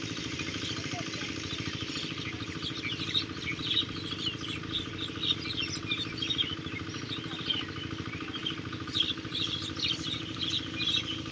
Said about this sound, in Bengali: পাখির কিচিরমিচির আওয়াজগুলো অনেক সুন্দর